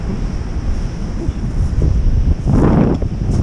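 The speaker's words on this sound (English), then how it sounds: "Waves are a lot angrier." Rough winter ocean waves break on a gravel beach with strong wind buffeting the microphone, a steady roar with a louder surge of surf near the end.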